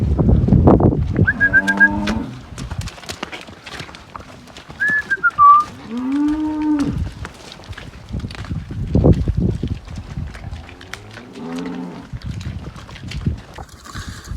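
Cattle on a farmyard moo in long, drawn-out calls, several separate lowing calls spread across the stretch, fairly close, with scattered knocks and clatter in between.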